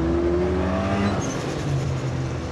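Engine of a car nicknamed Zebra while being driven with a heavy passenger aboard, a steady low hum that shifts pitch as it revs and eases, heard close from inside the cabin.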